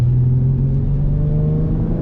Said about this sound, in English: it's got a deeper exhaust sound. You can hear the exhaust a lot more from inside the car than the previous one.